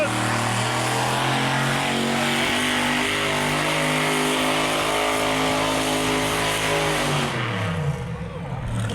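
A 2,000 horsepower, 527 cubic inch two-wheel-drive pulling truck roars loud and steady on a soft, sandy track in Austin, Manitoba, holding a dense engine drone for about seven seconds before the pitch drops and the sound fades away.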